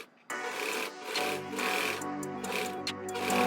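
Sewing machine hemming the sleeve of a knit faux wrap dress, a quiet steady motor whir with a fast needle rattle after a brief start.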